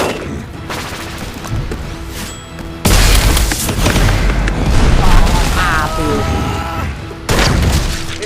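Gunfire and explosions from shooting zombies in the video game Left 4 Dead, dense booming blasts and rapid shots with a loud burst partway through, continuous under excited voices talking over the action.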